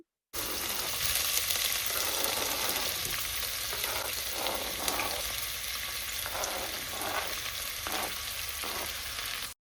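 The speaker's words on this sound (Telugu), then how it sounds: "ఇంకా ఆయిల్‌లో వేసిన మసాలా దినుసులైతే లైట్‌గా ఫ్రై అయిన తర్వాత ఆనియన్, మిర్చి గూడా సన్నగా తరిగేసి వేసేసాము." Sliced onions and green chillies fry in hot oil with whole spices, giving a steady close sizzle with soft crackles and occasional stirring for the whole stretch, no talk.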